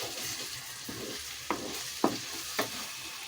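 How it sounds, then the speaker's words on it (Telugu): Potatoes frying in a pan with turmeric and chili powder, stirred with a spoon, giving a soft steady sizzle broken by a few sharp scraping strokes; no voices. "ఇందులోనే కొద్దిగా పసుపు, అలాగే 1 స్పూన్ కారం వేసేసుకొని కలుపుకుందామండి"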